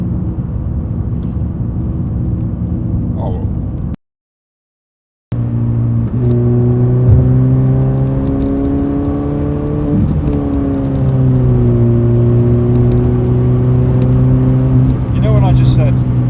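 A Ford Fiesta MK6 ST with a worn clutch, heard from inside the cabin as a steady engine drone that climbs and settles through gear changes, loud and continuous beneath people talking, with a brief dropout.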